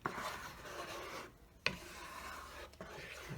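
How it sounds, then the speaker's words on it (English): A utensil stirs scrambled eggs in a pan, giving a soft, continuous scraping rub close by with a couple of light taps, quiet overall. "So I'm gonna keep stirring"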